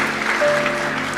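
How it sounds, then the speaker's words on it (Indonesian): Church congregation applauding during a Sunday worship service, a short steady burst of clapping at moderate loudness with a faint tone sustained underneath. "Tepuk tangan."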